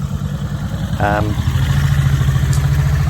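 A high-mileage car engine runs rough on fewer cylinders, a loud, close, uneven idle with a lumpy pulsing rhythm and a brief voice-like sound near the start.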